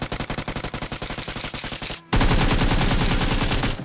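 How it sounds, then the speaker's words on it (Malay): Automatic gunfire from an SMG and an assault rifle in a video game, with a fast steady burst of shots that shifts to a denser, louder and different-toned volley as the magazine runs low, with no talk over it. "bunyi SMG dengan assault rifle, bila dia dah nak habis bullet tu, dia akan lain sikit"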